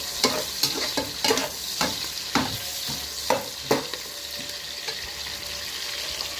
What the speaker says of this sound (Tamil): இந்த வெங்காயம் நல்லா சிறக்க வதங்கும்.